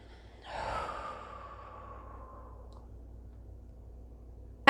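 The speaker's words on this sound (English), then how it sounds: "Deep breath in." One slow, deep inhale, close and soft, with faint breathy air that fades into near silence before a sharp click at the end.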